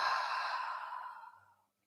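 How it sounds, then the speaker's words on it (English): One long, deep breath pushed out through the mouth, a soft airy rush that fades gradually over about a second and a half into silence, close and alone. "Take one more nice deep inhale here. And exhale out the mouth."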